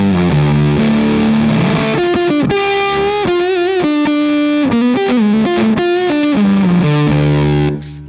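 An electric guitar plays through a Fuzz Face-style fuzz pedal set to its 69 Germanium mode, a loud dark sustained buzz across a run of picked notes and bends, cutting off sharply at the end, with no talking.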